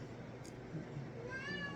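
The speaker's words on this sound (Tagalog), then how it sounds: "Pusa ko maingay." A house cat meows softly at a distance indoors, a couple of faint calls over low background noise during a brunch meal.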